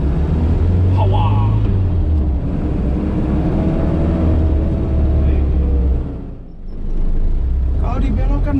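A 1984 Daihatsu Taft F50 drives and turns, its engine a steady low rumble close by with a brief dip in level near the end, under continuous in-car talk.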